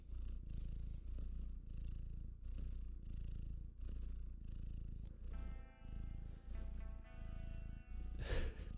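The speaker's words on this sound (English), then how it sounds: "Can you hear her purring?" Domestic cat purring steadily up close, a low rumbling buzz pulsing in even breath cycles, with faint music in the background and a brief rustle near the end.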